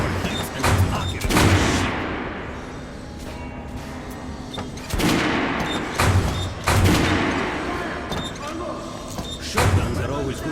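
Fully automatic gunfire at a range in Metro: Last Light Redux: several dense, loud bursts of rapid shots with mechanical clatter, separated by short pauses, while a voice talks over parts of it.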